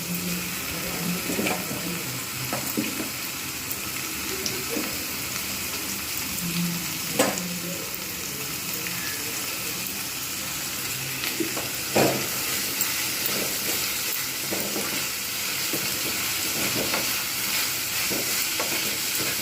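Potatoes and bitter gourd frying together in a pan make a continuous close sizzle and hiss, with occasional scraping stirs and light taps throughout and no talking.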